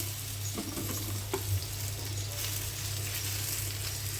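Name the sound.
potato and bitter gourd frying in oil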